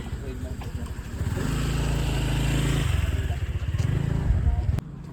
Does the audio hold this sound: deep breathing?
no